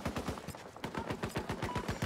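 Rapid automatic gunfire in the shooter Battlefield 2042, a steady stream of evenly spaced shots at moderate distance, continuous and fairly dense over a noisy battlefield background.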